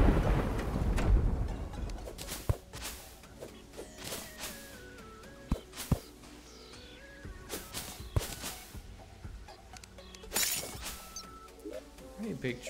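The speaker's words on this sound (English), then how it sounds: "that's really thundering." Terraria thunder rumbles loud at the start and returns as several sharp cracks over game music and rain, with a voice talking intermittently underneath.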